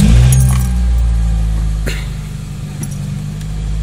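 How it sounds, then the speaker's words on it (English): An '01 Toyota Celica GT engine with a noise from the top end of the motor gives a loud, steady close-up drone. Faint metallic ticks and clinks sit above it, with no talking. "my video of my '01 Celica GT, of the noise that it makes and the top end of the motor"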